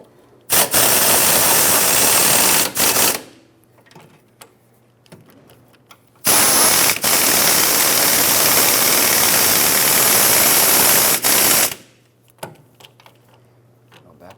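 Air or impact tool tightening wheel hub bolts on a Mazda 6 during a rear wheel bearing and hub replacement, two loud sustained whirring bursts of several seconds each, separated by quiet idling hum.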